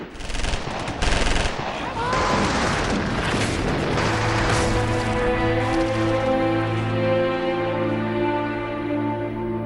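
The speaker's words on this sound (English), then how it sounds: "Pakistan Rangers opened heavy fire on dozens of border villages today." Heavy gunfire from Pakistan Rangers firing on border villages, heard as rapid, dense bursts of shots. The firing gives way to a sustained droning tone that fills the rest of the clip.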